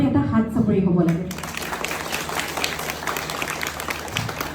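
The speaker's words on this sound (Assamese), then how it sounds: "তেওঁলোকৰ বাবে এটা হাত চাপৰি হ'ব লাগে" Audience applause breaks out at a Bihu dance workshop in Assam, a dense wash of clapping that swells in after a voice fades and carries steadily on, with music faintly beneath.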